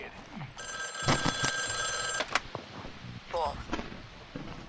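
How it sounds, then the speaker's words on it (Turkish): A telephone rings inside a video game, a shrill electronic trill lasting a couple of seconds amid game noises, with players talking over it. "Bak telefon Kanki, çalıyor lan."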